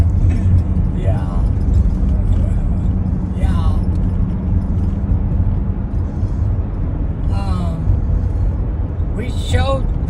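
A car driving home on the road after Memorial Day grave decorating, heard from inside as a steady low engine and road rumble, with people talking throughout.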